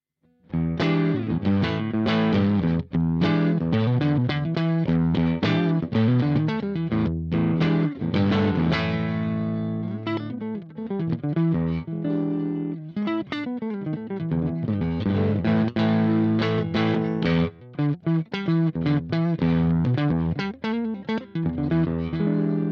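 Electric guitar through an Egnater Rebel 30 head running EL84 tubes, played continuously with a driven, effects-laden tone, dense strummed and picked notes at steady loud level throughout, no talking.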